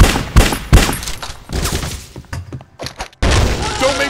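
Heavy gunfire in Bad Boys: Miami Takedown, a few loud close shots and booming impacts, then a brief lull of scattered thuds before another dense burst of shooting.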